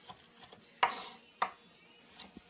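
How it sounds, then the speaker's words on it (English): A knife chops garlic on a cutting board in a few sharp, sparse knocks, close and fairly quiet, with faint kitchen clatter between strikes. "I'm going to chop it up like this really fine."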